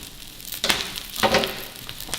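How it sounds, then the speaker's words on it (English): Salmon sizzles in a hot frying pan, crackling in a few bursting swells over a low, steady hiss, close and fairly quiet. "Start and get that sizzle going right in there."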